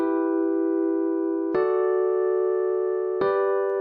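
A chord progression from a beat made in FL Studio 20: three sustained chords in a row, each entering with a soft attack and ringing steadily, clean and moderately quiet.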